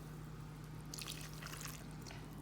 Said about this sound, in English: And then finally, you put in warm water.